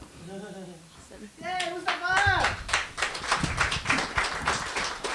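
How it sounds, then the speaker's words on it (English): Audience applause in a live comedy talk setting, clapping building after a couple of spoken phrases and continuing steadily and fairly loud through the rest, with some voices at the start. "Can you go louder? Like with the applause? Louder?"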